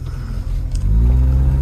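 A Honda EK Coupe with a D16Y7 engine rumbles low and close, the engine note thickening and climbing as the car accelerates after a brief dip.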